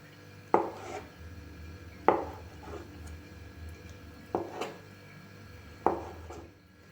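Knife cutting three eggs into thick strips on a board, a few distinct taps spaced about a second or more apart, close and clean, with no one talking over them.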